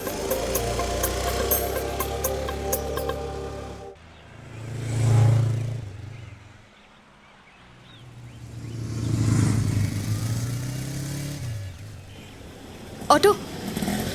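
An auto rickshaw engine swells and fades in two passes as the vehicle drives by, with a loud stretch of music and voices at the start and a short clatter near the end.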